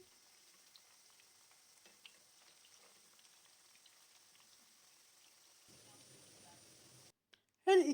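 Meatballs fry in hot oil in a pan, giving a faint, steady crackle of spitting oil. A voice briefly speaks near the end, and a louder clatter cuts in at the finish.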